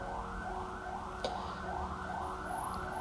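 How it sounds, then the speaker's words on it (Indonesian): Several ambulance sirens wail at once in steady, repeating rising-and-falling sweeps, loud and continuous throughout, with a brief sharp knock partway through and no voices. "itu banyak suara ambulans dari tadi"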